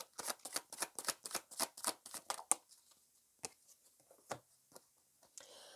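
Tarot cards being shuffled for a reading, a rapid run of crisp riffling slaps for about two and a half seconds, then a few sparse, softer card flicks and taps alone in a quiet room.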